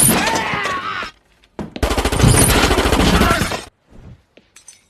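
Gunfire from a scene in the crime thriller film No Country for Old Men: loud, close bursts of rapid shots with sharp crackling impacts, a short gap between two volleys, then a few faint trailing sounds.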